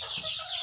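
A game-farm chicken gives a quick, faint cluck, a single short call with no voices.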